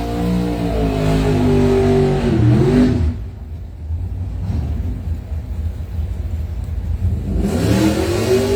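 Camaro drag cars launching off the line at a drag strip, a loud, close engine rev that rises and holds, then drops into a sustained roaring rumble as the cars pull away, before the revving returns near the end.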